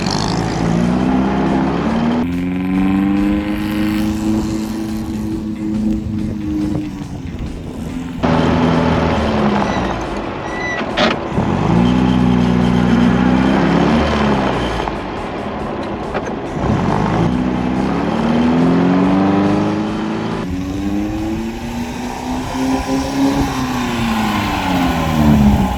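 A vintage MG TD sports car runs a zigzag rally test course on a New Zealand pre-1956 MG rally, its engine droning steadily and loudly for the whole stretch, pitch rising and falling repeatedly as the throttle comes on and off through the turns.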